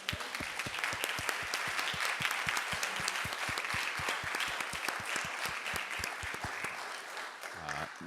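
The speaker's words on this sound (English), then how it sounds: "I just think that we should have a round of applause for the signers tonight." An audience at an evening lecture claps for the sign language interpreters, with dense steady applause that sounds fairly close and keeps going for several seconds before it tapers off at the end.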